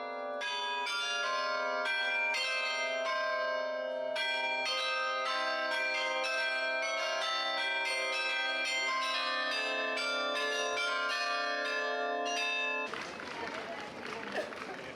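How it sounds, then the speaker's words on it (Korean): Carillon bells ring a melody from the medieval belfry tower in Bruges, Belgium, steady and resonant for most of the stretch before giving way to outdoor crowd noise. "15분마다 카릴론 악기로 연주되는 브리의 종탑 종소리의 장엄함은 그 소리만으로도"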